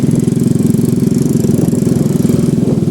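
Motorcycle engine running at low speed while easing down for an intersection in Kayong Utara, a close, steady rumbling putter with rhythmic pulsing and no voices.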